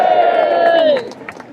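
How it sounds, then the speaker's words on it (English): A crowd at a farmers' protest cheering, a loud close voice carrying a long sustained shout over the massed crowd noise before it fades into scattered calls. "Let us give a cheer for them."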